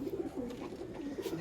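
Pigeons at a Bengali pigeon sale, Andra and similar fancy breeds, give a steady low cooing, several birds overlapping in continuous soft rolling calls close by.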